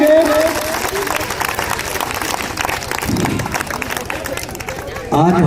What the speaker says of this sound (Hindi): कृपया सभी बच्चों से रिक्वेस्ट है और ताली बजाकर हमारे दिलीप सर का स्वागत करेंगे।